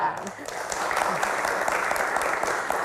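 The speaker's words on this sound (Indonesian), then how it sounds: "Tepuk tangan teman-teman, terima kasih." A studio audience of university students claps steadily through a Metro TV Q&A broadcast, a dense, even wash of applause that holds at a fairly loud level from start to finish.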